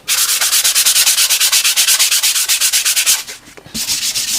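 Sandpaper rubbed rapidly back and forth over a newspaper background, a loud, close, rhythmic scratching of even strokes with a short pause near the end.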